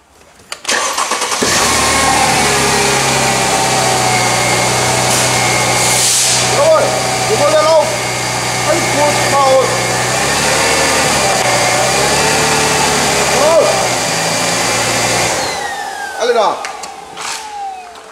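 A Mercedes W211 with the M112 V6 cranks briefly and catches, then settles into a steady, loud idle with a low rumble for most of the stretch before shutting off near the end; faint voices sound over the running engine.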